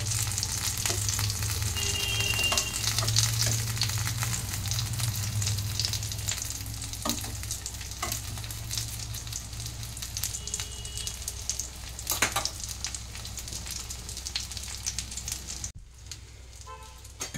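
Fish frying in a pan with chillies, Goa style, giving off a loud, steady, close sizzle that crackles throughout and then cuts off abruptly near the end.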